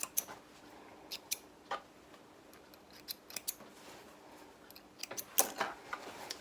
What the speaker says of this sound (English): Trim the threads.